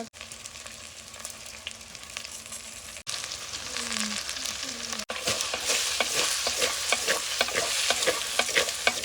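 Turmeric and salt are stirred into hot oil in a pan for Gujarati bhindi shaak, making a loud crackling sizzle with repeated scraping strokes that grows busier and more intense partway through.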